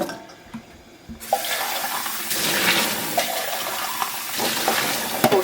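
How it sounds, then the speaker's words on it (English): Canned chickpeas being drained into a sink, with a steady rush of pouring water that starts abruptly after a quiet second and runs continuously, fairly loud and close. "I'm just going to drain those chickpeas."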